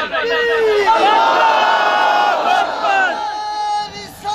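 A large crowd at a religious gathering roars slogans (naara) in loud, sustained unison, the massed voices held steady for several seconds before dipping briefly near the end.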